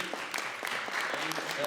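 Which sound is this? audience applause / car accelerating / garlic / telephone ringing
audience applause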